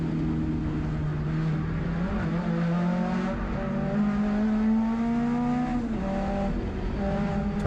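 Race cars in the Toyo Tires 2.5 Challenge drift through a turn at Sonoma, engines droning and rising in pitch with tire squeal, loud and continuous without any talk.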